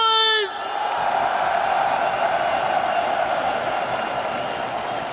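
Esports arena crowd at a CS:GO major grand final cheering for FaZe, a loud, sustained roar of yelling and whooping that swells after a brief announcer shout and holds steady throughout.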